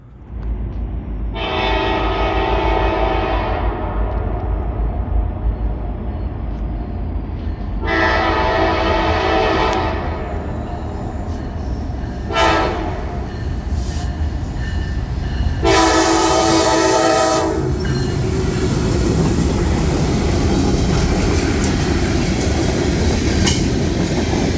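A Norfolk Southern diesel locomotive in former Conrail paint passes close by, its horn sounding in four loud blasts, the last held longest, over a steady rumble of engine and rolling wheels.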